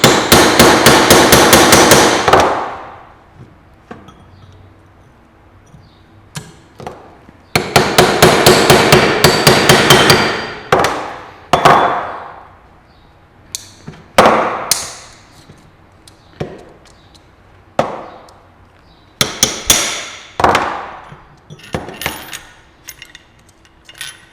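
Rapid runs of ringing hammer blows on a chisel wedged against a motorcycle steering bearing cone, the steel strikes near and loud, some in quick bursts and others spaced out singly, with no voices.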